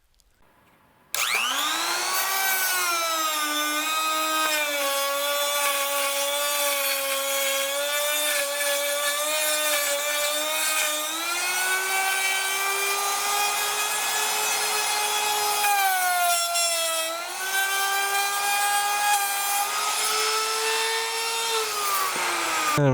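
A Harbor Freight trim router, item 62659, cutting a roughly foot-long groove in oak: a loud, high whining motor that spins up sharply, then holds a steady scream with slight dips in pitch as the bit bites the wood.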